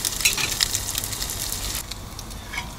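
Potatoes and meat brown in a pan on a small van stove, giving a soft, crackling sizzle that stays fairly faint and steady, with no talking.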